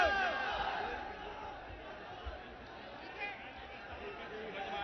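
A large crowd chatters and murmurs at a Dimple Yadav political rally in Mainpuri, a broad babble of voices with occasional shouts rising over the steady hum of thousands of people.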